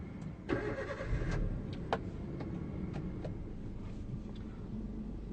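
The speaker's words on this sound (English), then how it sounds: "To start the car, press the clutch all the way in with your left foot and turn on the car" A manual car's engine cranking and catching, with a brief starter burst followed by a low steady idle and a few faint clicks, fairly quiet and with no talk.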